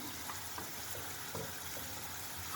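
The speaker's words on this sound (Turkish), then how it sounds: "Unumuz kavruluyor gördüğünüz gibi" Flour toasts in a pan for mushroom soup, giving a soft, continuous sizzle with light scraping and stirring strokes, close and fairly quiet, with no voices.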